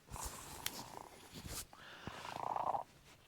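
A shop cat purrs up close in soft, uneven bursts, with light rustling and small movement sounds around it and no talking.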